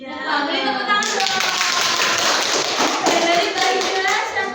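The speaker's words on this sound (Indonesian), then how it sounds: "beri tepuk tangan dong" Classroom audience of students applauding, a dense burst of clapping that starts abruptly and continues steadily, with a few voices mixed in.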